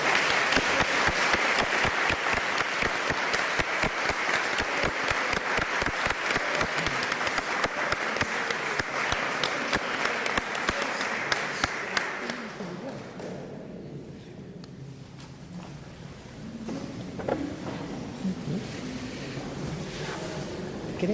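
A church congregation breaks into loud, dense applause lasting about twelve seconds, then fades into scattered claps and quieter room murmur.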